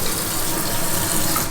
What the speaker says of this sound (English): A nice deep stainless sink. And the faucet.